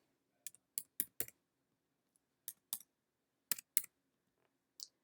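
Someone enters a zip code on a computer keyboard, giving crisp, close key clicks in small clusters with short pauses between them.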